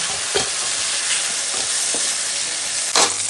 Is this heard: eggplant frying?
yes